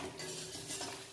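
Roasted makhana mixture is stirred in a pan over a high flame, with a soft, steady scraping and faint clinks of a utensil against metal, and no voices.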